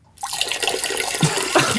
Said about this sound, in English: Just pouring a glass of scotch.